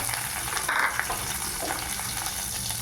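Onion and green chili sautéing in oil for a Tamil tomato kulambu, giving a soft, continuous sizzle and crackle at moderate level. Faint clinks and a brief stirring scrape can be heard, with no talk.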